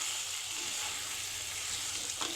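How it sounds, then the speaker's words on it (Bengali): Tomato curry with okra and rohu fish being stirred in a pan, a steady soft sizzle and frying hiss with faint scraping, continuous and close, no voices. "আবার ভালো করে নাড়বো। টমেটোগুলো একটু চেপে চেপে দিলে এটা গলে যাবে, তরকারির সঙ্গে মিশে যাবে।"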